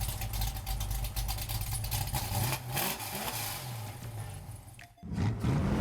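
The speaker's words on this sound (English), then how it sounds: "we were just listening to some cars, V8 cars" A loud V8 muscle car engine rumbles and revs continuously, with a deep throaty roar rising and falling, briefly dropping near the end before roaring back.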